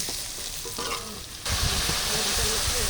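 Spices and ginger-chili paste sauté in a pan for ridge gourd dolma with a continuous close sizzle that grows louder midway, with stirring scrapes throughout.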